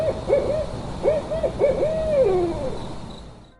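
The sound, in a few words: owls hooting at night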